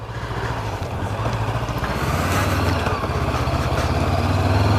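A 2016 Honda CB500F motorcycle is ridden on the road, its engine a loud, steady throbbing hum that rises gradually with wind rush and no talking.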